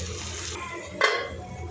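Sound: covering the pan with a lid

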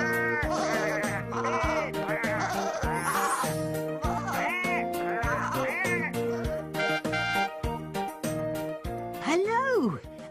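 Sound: sheep bleating

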